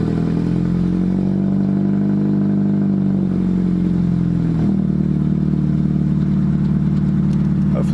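A tuned Chevy Cruze engine runs steadily at idle, close and loud, with a constant low drone that dips slightly in pitch midway and has no talking over it.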